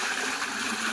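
Water poured into a container, a steady close splashing gush that runs without a break through a very short moment, with no voices.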